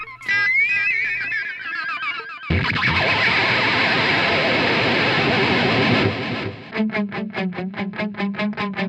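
Wailing, warbling electric guitar whammy-bar swells with heavy effects, a dense distorted wash, then a run of rapid, evenly pulsed stabs at the end.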